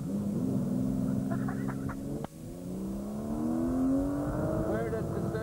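A sports car engine roars steadily at about 170 miles an hour on a deserted test track, its pitch climbing gradually, with a brief dip midway before the strain resumes.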